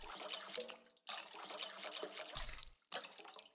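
In the Bakery Simulator video game, water runs in as an ingredient for dough, with yeast already added: a quiet, steady tap-like pour that cuts off and restarts twice.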